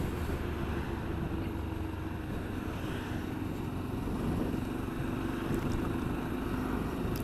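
BMW Africa Twin motorcycle riding on a busy road, a steady, continuous engine drone and road rumble throughout with wind noise, no talking.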